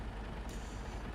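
A truck in a farming video game releases its air brake in a sudden sharp hiss over a low, steady engine rumble, brief and fairly quiet.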